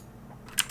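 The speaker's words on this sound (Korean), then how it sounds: "노트에다가는 비전 항목에 넣을 어떤 항목들에 대해서 타이핑을 해볼게요" Keyboard typing while entering notes into the Milanote web app, a few sharp keystrokes near the end after near silence, close and quiet with no talk.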